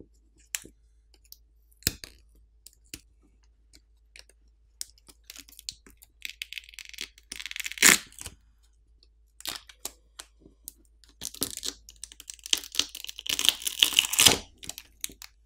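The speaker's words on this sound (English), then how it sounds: "To remove the battery, there are pull tabs on either side to help you pry it off." The 5000 mAh battery of a OnePlus 11 phone is pried off with pull tabs, giving sparse close clicks and ticks followed by two bursts of crinkly peeling and scraping, quiet and with no voices.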